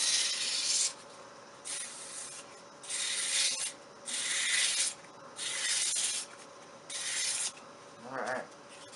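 A wooden ring dish is power-sanded in seven rhythmic bursts of abrasive hissing, each about a second long with short pauses between, ending with a brief low hum.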